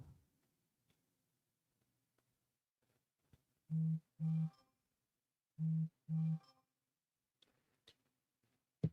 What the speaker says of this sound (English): Did you hear that? That's my phone.